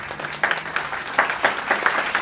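An audience claps together at a stage programme honouring a performer, a steady crackling applause with several louder surges, close and fairly loud, with no voices.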